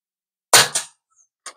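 A budget PCP air rifle fitted with a silencer lets off a single short, muffled pop, and a fainter pair of clicks follows after a pause.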